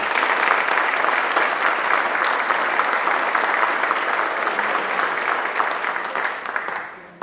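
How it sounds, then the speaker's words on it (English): An audience gives a round of applause to a panel at an active shooter preparedness event, a sustained crowd of clapping hands, steady and fairly close, tapering off at the end. "I'd like first to give a round of applause to our panel."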